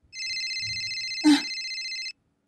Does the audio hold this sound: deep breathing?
no